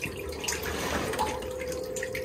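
A Jebao SCP-180 cross-flow aquarium pump pushes water in a steady, close rushing and trickling flow, with a faint constant hum beneath the splashing.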